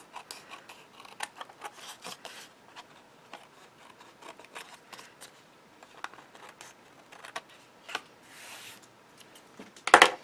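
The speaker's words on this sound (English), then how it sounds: "I think I should probably trim these parts off." Scissors snip and trim excess edges off a handmade card decorated with rub-on transfers, producing a quiet run of close, scattered cuts and rasps, with a louder snip at the very end.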